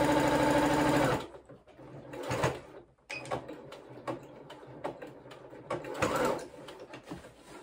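Sewing machine stitching down both ends of elastic for a pair of Closet Core Pietra shorts, a loud steady run of about a second, then short bursts of stitching with pauses and handling noises in between.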